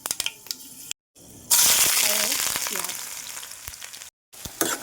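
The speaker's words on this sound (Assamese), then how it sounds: "তেলটো গৰম হোৱাৰ লগে লগে ইয়াত দি দিছোঁ মই দুটামান পাঁচফোৰণ" Panch phoron spices hit hot oil in a kadai, bursting into a sharp loud sizzle that slowly fades, bracketed by brief clatter and short silent gaps.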